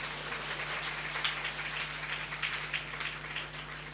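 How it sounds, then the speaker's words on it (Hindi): Church congregation at a live Sunday service clapping hands together in praise, a dense, steady patter of many hands, moderately loud and continuous throughout with no speech over it. "ताली बजा के स्तुति करेंगे परमेश्वर की।"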